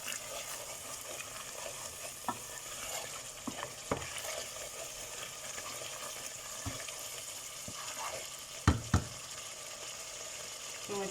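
Tomatoes and jujubes hit the pan in a rohu fish curry, giving a steady close sizzle of frying with scattered clinks and taps of a stirring utensil, two sharper knocks near the end.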